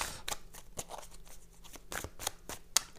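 Tarot cards being handled give quick, close papery snaps and flicks in an irregular rhythm, with faint pauses between and no speech.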